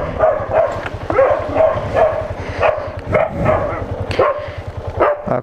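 A nearby dog in a rural area barks and yips excitedly in a rapid, steady string of loud barks.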